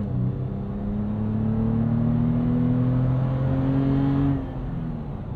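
A 2022 Toyota 4Runner TRD Pro with a 4-liter V6 accelerates hard, its engine droning up in pitch with steady rising harmonics heard from inside the cabin, then easing off near the end.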